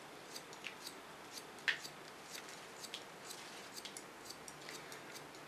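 Quiet, close snips of scissors through thick hair, a series of soft irregular clicks with one sharper cut, no talking.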